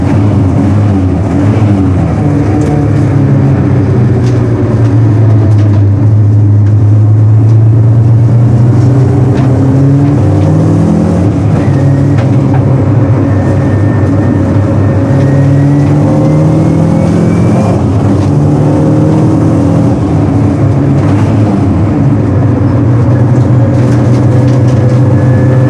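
A Porsche 944 on a race track, its engine droning loud and steady throughout with rising and falling pitch as it accelerates and shifts, no voices over it.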